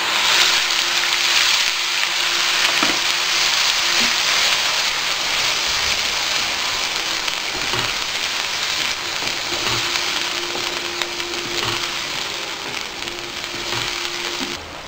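Chopped onions fry in oil with cumin seeds in a pan, giving a constant close sizzling hiss with faint crackles, alongside a low steady hum and no speech.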